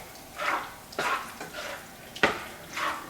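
Cut-up turkey Italian sausage stirred into a pot of sauce, with several separate scraping, sloshing strokes of a utensil against the pot, close and moderately loud, no talk.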